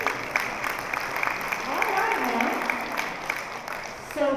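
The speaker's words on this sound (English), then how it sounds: "You can clap for yourself better than that." Crowd at a community forum clapping in a steady dense patter, with a voice speaking over the applause partway through.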